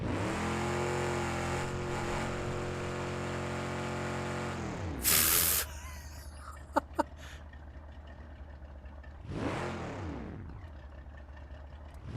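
A wagon's engine in BeamNG.drive, running on standard road tires in first gear, revs loud and rising with no talk for about five seconds, cuts off in a sharp hissing burst, then idles low before one more brief rev swell.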